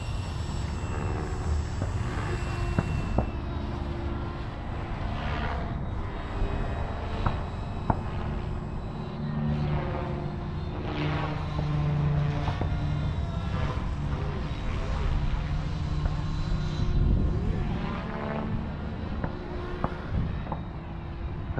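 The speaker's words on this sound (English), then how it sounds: "second flight of the F-16 Thunderbird." An E-flite F-16 Thunderbird RC jet on 6S power whines and whooshes as it flies past, rising and falling in loudness against steady background noise outdoors.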